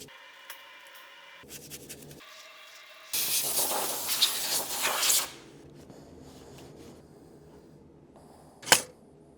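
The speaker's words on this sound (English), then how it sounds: "Victor Reinz gasket remover, plastic scraper, all right, that area is now nice and clean." Victor Reinz gasket remover sprayed onto the V12 engine block of a BMW E31 850i, a steady two-second hiss up close, then quieter scraping and a sharp tap near the end.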